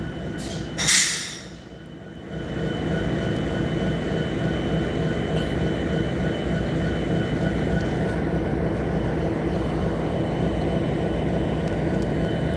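Southbound Norfolk Southern locomotives rumble steadily with a broad, constant roar, following a brief bright burst near the start, with no talk over it.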